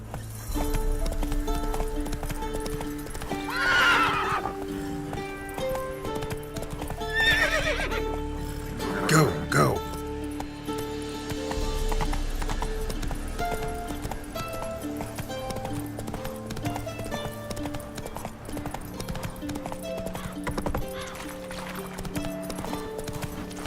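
Roach, a horse in The Witcher 3 game, gallops with steady clip-clop hoofbeats and gives a whinny, set against a constant musical game backdrop, with a voice calling out over it now and then.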